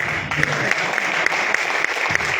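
An audience at a network-marketing leadership seminar claps briefly in a dense, even patter, with a few sharper claps standing out near the front.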